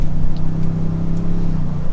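A 2022 Ford Expedition Timberline 4X4 accelerates hard with a steady, loud engine drone that holds near and close for two seconds, alone with no talk.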